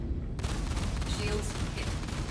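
Rapid ship cannon fire striking shields in Star Citizen, aimed at an Anvil F7C Hornet Wildfire, a loud dense barrage of thudding impacts that starts abruptly and continues throughout with faint zapping tones.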